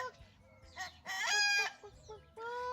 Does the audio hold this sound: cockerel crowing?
yes